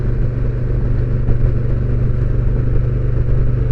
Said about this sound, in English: I can hear the throbbing of the V-twin.